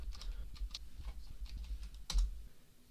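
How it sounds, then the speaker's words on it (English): Keys clacking on a computer keyboard as a search phrase is typed into a library search box, a quiet, irregular run of taps with one louder strike near the end. "Then type in the same search phrase as before."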